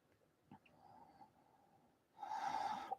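Breathing during an Ashtanga yoga shoulder balance with the legs in lotus. A faint breath and soft snort come first, then a long, loud, rushing exhale near the end.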